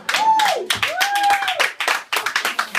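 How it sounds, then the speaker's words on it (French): A comedy club audience claps and cheers, the applause breaking into bursts while a voice carries a drawn-out sung or called tone over the crowd. "Ça c'est le public du Cozy Comédien et on vous applaudit."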